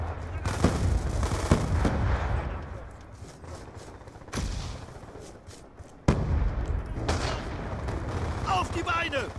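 Rapid pistol gunfire in the multiplayer shooter game Black Ops II, loud repeated shots in bursts with sharp onsets, heard alongside game effects and someone talking.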